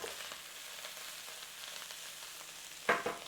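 Beef empanada filling with plump raisins sizzles and fries steadily in a hot pan, a soft continuous crackle with a brief louder clatter of stirring near the end.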